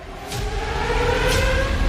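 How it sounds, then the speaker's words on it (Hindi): An air-raid siren wails steadily in Moscow during a drone attack, through constant background rumble, with a faint rising sweep partway through. "सायरन बजने लगते हैं।"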